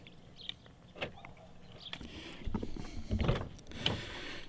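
Hood release pulled and hood popped open on a Chevy Colorado pickup with a factory 5.3 V8 and 4WD, giving a few mechanical clunks and latch clicks close by, the loudest pair near the end, with no talk.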